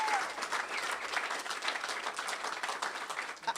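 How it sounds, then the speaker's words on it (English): Applause for Mayor London Breed at a civic announcement event, a steady wash of many hands clapping from a moderately distant audience, sustained evenly throughout without pauses. "give another round of applause for Mayor Breed"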